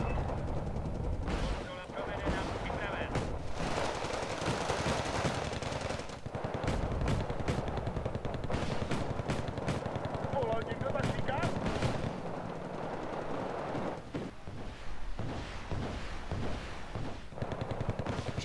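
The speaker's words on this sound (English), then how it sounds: "Alright, so I'm gonna bomb that block out over here." Heavy bombing and bursts of gunfire in the Wargame: Red Dragon strategy game, a loud, dense barrage of explosions and rapid shots, with someone talking over the battle.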